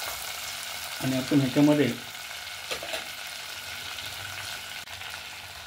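Whole spices fry in oil for a dum mutton curry, a steady soft sizzle throughout with a short burst of speech near the start and a few stirring knocks.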